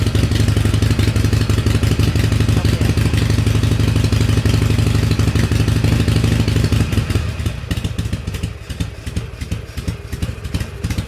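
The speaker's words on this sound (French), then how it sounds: "on entend que la moto est un petit peu haute au ralenti" A 2006 Harley-Davidson Sportster 883 R engine idles slightly high, loudly and steadily nearby, its fast rhythmic chugging easing to a rougher, slightly quieter idle toward the end.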